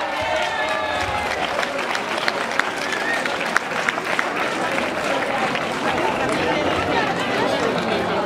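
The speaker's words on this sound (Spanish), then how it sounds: "Un fuerte aplauso para Miriam." Outdoor crowd at the prize giving of the X Legua Castellana de Monleras 2022 race applauds the junior women's winner, steady clapping over busy crowd noise and chatter throughout.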